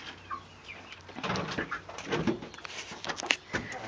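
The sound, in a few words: chickens clucking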